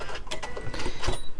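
A sewing machine labors over a bulky seam during free motion quilting on a cushion cover, giving close, uneven, rapid mechanical clattering with stuttering pulses and a dull thunk near the end.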